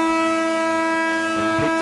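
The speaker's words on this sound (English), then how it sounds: "The siren sounds in the background for full time." Full-time siren at a Group 6 rugby league match at Victoria Park, a loud sustained horn-like wail with steady layered tones held continuously from start to finish.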